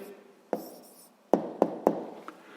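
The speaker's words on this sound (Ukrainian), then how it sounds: "І записуємо відповідь." A pen writes down the answer to a sixth-grade math exercise: faint, steady scratching, with a few sharper taps of the pen on paper, quiet and close, with no voices.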